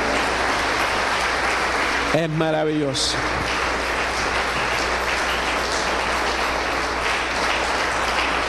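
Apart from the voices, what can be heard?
congregation applause in church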